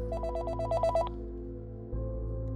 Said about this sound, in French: C'est à ce moment-là que le téléphone sonne.